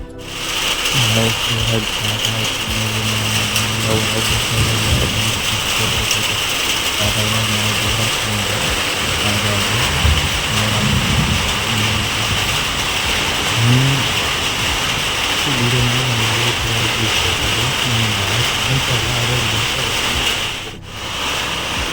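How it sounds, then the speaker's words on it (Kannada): The first rain of the season in Shivamogga falling steadily, a dense continuous hiss and patter on surfaces, with faint low murmurs and background noise underneath. "ಮಳೆ ಇನ್ನೂ ನಿಧಾನಕ್ಕೆ ಬರ್ತಾಯಿದೆ."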